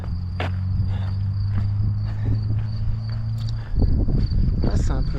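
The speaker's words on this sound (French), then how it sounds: "petit sauterelle, hein, sauterelle ou cigale" Insects, grasshoppers or cicadas, buzz with a steady high rasp beside a trail in Haute Provence. A low droning hum runs under it before crunching footsteps take over near the end.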